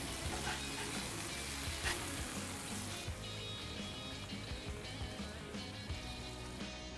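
A burger patty sizzles on a flat griddle under a dome, giving a steady, close crackling fry with no speech over it.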